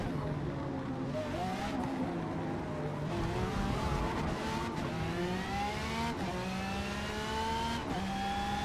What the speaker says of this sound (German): wir haben den Turbo eingebaut